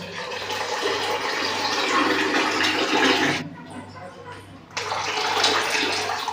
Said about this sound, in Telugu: మజ్జిగ ఎన్ని కావాలనో అన్ని నీళ్ళు పోసుకుంటాం కదా.